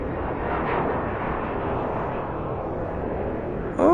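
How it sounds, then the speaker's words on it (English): Airplane flying overhead in the racing game Gran Turismo 7 on PSVR2, a steady broad rumbling roar holding level throughout, ending in a brief high tonal chirp. "Okay, can hear a plane."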